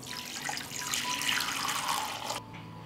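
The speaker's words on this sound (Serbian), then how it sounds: "I sipat ću u šerpu toplu vodu." Warm water runs steadily into a cooking pot with a broad, hissing splash that stops abruptly near the end.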